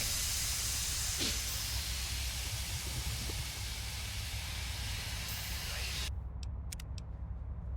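A brain tank in Fallout: New Vegas gives off a loud, steady hiss like escaping steam that fills most of the stretch, then cuts off near the end.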